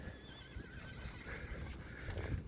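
A horse whinnies softly in a sandy desert hiking area in Sonora, Mexico, a faint wavering neigh at a distance over light background noise with no talking.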